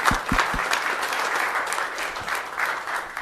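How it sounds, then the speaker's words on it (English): Audience applause for young artists at an El Cajon city council meeting, a warm burst of many hands clapping, fairly close, with a few sharp individual claps at the start and no speech over it. "Let's have a big round of applause for all these great young artists."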